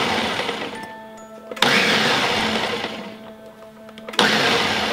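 A countertop blender pulses sesame seeds for Korean barbecue sauce in short whirring bursts, each ending abruptly, separated by quieter gaps with a faint hum.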